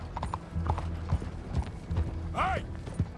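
A horse in Red Dead Redemption 2 gallops in steady hoof clops over a low rumble, with a brief whinny near the end. The sound is close and loud.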